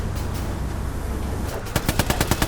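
Gunfire in the World War II shooter Hell Let Loose: a low rumbling battlefield bed, then a rapid burst of about eight sharp, loud shots in quick rhythm near the end.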